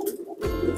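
A pigeon gives a brief, low coo close up, a short burst of throaty tone with no talking.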